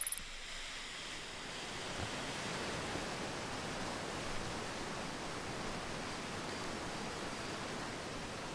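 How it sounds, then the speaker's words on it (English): A waterfall in the video game Outer Wilds gives off a steady, broad rushing roar of falling water that stays constant and unbroken throughout, with no voices. "Waterfall here."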